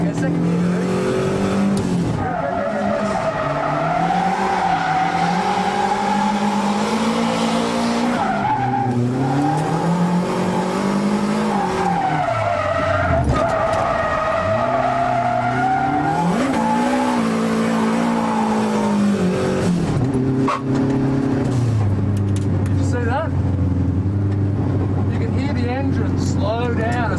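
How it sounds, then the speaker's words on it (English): A manual car drifts with the handbrake in second gear, its engine revving and wavering in pitch as tires skid and squeal through long slides, loud and close, with someone talking over it. "Now when you're pulling the handbrake, you can do that by pushing in the clutch with your left foot and revving with your right."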